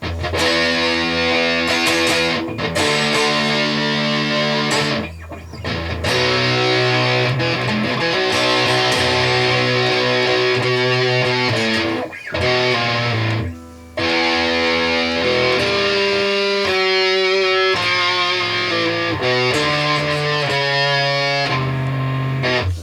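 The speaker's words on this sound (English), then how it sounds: "it's an overdriven amp with something like a big muff or matron, some sort of like fuzz pedal in front" Electric guitar through an overdriven amp with a fuzz pedal in front plays a riff of sustained, buzzing chords and notes, loud and saturated, with brief gaps between phrases and no voices.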